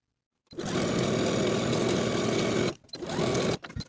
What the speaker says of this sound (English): Then sew both of those inner leg seams with a 5/8 inch seam allowance and press the seams open